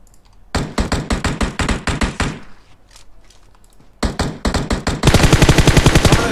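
Bursts of automatic gunfire in the video game PUBG Mobile: two loud, rapid volleys of close shots separated by a quieter pause, the second burst heavier and denser.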